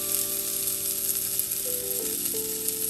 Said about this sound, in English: I'm just using the garlic press to mince it.